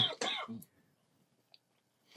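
A man coughs twice in quick succession at close range, a brief throat-clearing burst, followed by near silence and a faint click, with a sharp thump at the very end.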